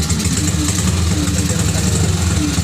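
A Yamaha STX 125 motorcycle engine idles close by just after starting, with an even, throbbing putter at a steady loud level throughout.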